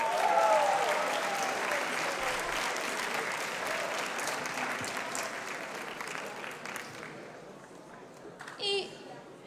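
At an anime convention in Porto, a crowd applauds a prize winner with a full, sustained round of clapping that gradually thins and fades, while children's and adults' voices chatter underneath.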